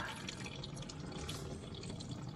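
Water drains and trickles out of an old engine's fluid on a homemade log splitter, a continuous quiet splashing gurgle with faint drips, heard alone.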